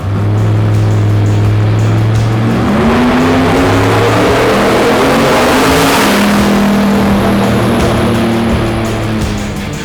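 A drag race car engine on a chassis dyno revving hard through the gears, a loud continuous roar whose pitch climbs, drops at each shift and climbs again, with no talk over it.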